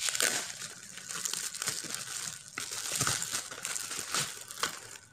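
Close, continuous crinkling and tearing of a plastic shopping parcel opened by hand without scissors, with irregular rustles and rips and no talking.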